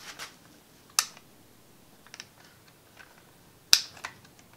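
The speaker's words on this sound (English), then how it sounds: "So we'll just get in there and cut these wires." Wire cutters snip through wires inside a Dremel Stylus charger: two sharp, close clicks a few seconds apart, with fainter small ticks and handling noises between them in a quiet room.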